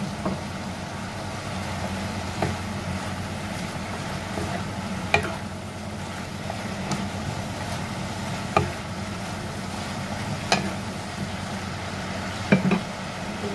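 Broccoli, cabbage and mushroom stir-frying with chicken liver in a pan, a steady low sizzle with occasional sharp clicks and scrapes of stirring, continuous and moderately quiet with no talk.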